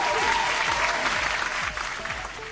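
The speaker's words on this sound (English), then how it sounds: "We'll give her applause, Mrs. Bandito." A short round of applause from a small group at an informal drone hangar gathering, clapping steady and close before tapering off slightly at the end.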